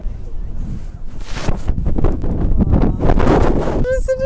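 Gusty, cold wind on Mount Etna, Sicily, rumbles and buffets the microphone, rising and falling over a few seconds, with a brief tonal sound near the end.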